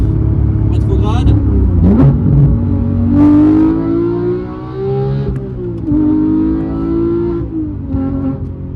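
Porsche sports car engine revving hard on a downshift, the manual-gearbox version rather than the PDK, during a supercar drive; loud rising and falling engine tones close by, with people talking over it.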